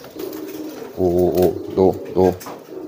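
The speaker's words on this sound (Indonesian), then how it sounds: "Giringnya keras banget. Ini nggak bisa jauh dari betina nih." A male pigeon courting a female gives loud, close, throaty cooing in three or four rolling bursts. A voice speaks softly around the calls.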